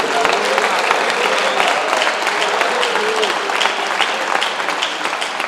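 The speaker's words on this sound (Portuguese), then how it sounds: "Aplauda o Senhor, dê glória ao nome dele" Church congregation applauding together in steady, dense clapping that fills the room at a constant loud level, with faint voices mixed underneath.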